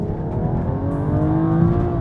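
A BMW F21 M135i hatchback accelerates hard on automatic kick-down in Sport Plus mode, its engine note climbing steadily as a continuous, loud rising drone heard from inside the car.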